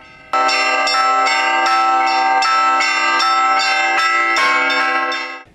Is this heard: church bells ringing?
yes